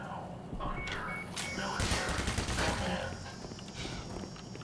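Automated turrets open fire in the Black Mesa video game, loud broadband bursts of gunfire crackling over a busy mix of other game sounds for several seconds.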